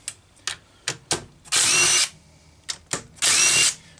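A Homelite 2100 chainsaw fitted with a Tillotson HL 222A carburetor sputters through a few short pulls and pops, then roars briefly twice in loud sustained bursts, each dying back to silence, up close.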